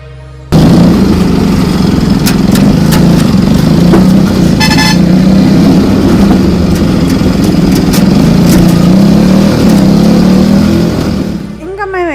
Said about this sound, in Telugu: మేము అయితే ఆటోలో వెళ్ళాము